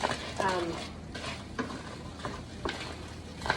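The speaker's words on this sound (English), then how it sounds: "It's about medium-high heat, of course, to scramble fry." Lean ground beef being scramble-fried in a pan over medium-high heat, with soft sizzling and several sharp scrapes and stirs of a utensil against the pan, fairly quiet and close.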